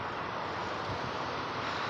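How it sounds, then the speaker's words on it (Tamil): Strong wind blowing at Arikady Fort, a steady, even roar buffeting the microphone for the whole stretch, with no voices. "ஆனால் காற்றும் நல்லா அடிக்குது"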